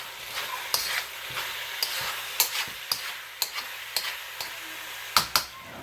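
Beef and garlic stir-fry in a pan, a steady sizzle punctuated by repeated sharp clacks of a utensil against the pan at an irregular rhythm, close and without talk.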